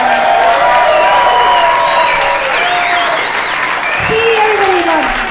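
An audience applauds and cheers for Greg at a televised music show, sustained loud clapping with whoops and a voice rising over the crowd.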